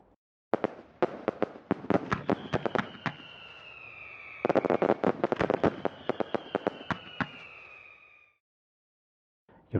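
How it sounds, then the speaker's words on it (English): Fireworks on the night of November 5th, a dense run of sharp crackling bangs in two bursts with whistling trails rising above them, loud and close, then a sudden drop to silence. "there's bound to be fireworks."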